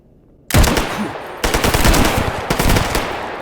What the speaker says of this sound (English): I have a rifle loaded with AP rounds.